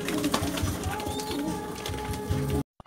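Young racing pigeons coo and shuffle at a loft in a steady, fairly loud ambient wash, with soft calls rising through the whole stretch before it cuts off abruptly near the end.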